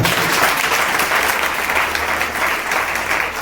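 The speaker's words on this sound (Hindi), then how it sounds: "जोरदार ताली बजाइए" A church congregation at a Sunday sermon claps loudly and steadily, dense continuous applause filling the room with a faint voice underneath.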